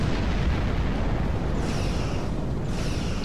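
Torpedo blasts strike a starship in the space combat game Star Trek Online, a dense, continuous roaring rumble with a loud, unbroken explosive wash that carries through the whole short stretch.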